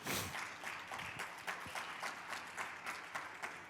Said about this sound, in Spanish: Dale un aplauso fuerte a Jesús.